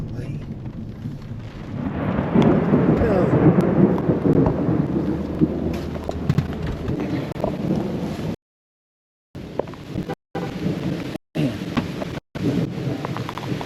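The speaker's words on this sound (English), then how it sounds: "You're fine, it's just rain." Heavy rain pours during a storm with a tornado nearby, a dense loud hiss with gusty wind buffeting, later broken by abrupt dropouts and lighter patter.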